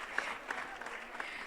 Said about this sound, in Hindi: जोरदार तालियों से मैम का स्वागत।